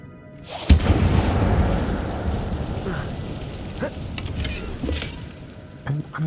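A fire spell in a Hogwarts Legacy cave blasts out with a sharp boom, followed by a sustained crackling, roaring burst that slowly fades, with a couple of smaller thuds near the end.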